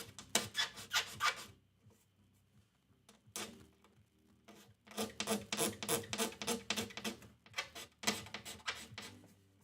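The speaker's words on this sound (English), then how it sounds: "I'm not scraping enough off that I have to really be worried about it" Guitar fingerboard being scraped on a repair bench, bursts of quick rhythmic rasping strokes separated by brief pauses, close and distinct, with no talk.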